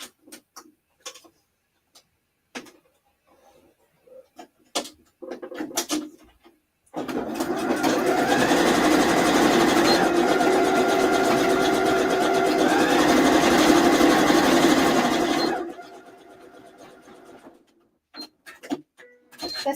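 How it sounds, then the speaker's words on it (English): A domestic sewing machine stitches a zigzag seam on a tank top, running steadily and loudly for about nine seconds with a fast mechanical clatter, framed by quieter handling noises before and after. "I'm just going to stitch this together with a wee zigzag."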